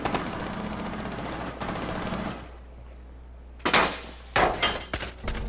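Rainbow Six Siege gunshots, starting with a sustained burst of automatic fire that cuts off into near-quiet, then several sharp loud shots and short bursts close by.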